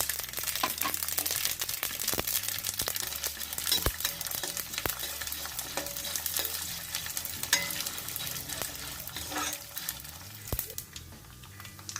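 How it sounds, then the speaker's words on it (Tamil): Mustard seeds and chana dal fry in hot oil for temple-style puliyodharai tamarind rice, making a loud, busy crackle of popping seeds with sharp snaps over a continuous sizzle, close to the pan. "எண்ணெய் சூடானோடனே இதில் கடுகு போட்டுக்கலாம். கடலைப்பருப்பு போட்டுக்கலாம்."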